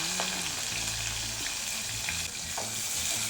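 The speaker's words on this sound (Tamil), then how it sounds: "எல்லாம் சேர்த்து வதக்கிக்கலாம்." Onion, fenugreek, cumin and green chilies sauté in hot oil, giving a steady close sizzle with occasional light stirring clicks and faint clatter, no talking over it.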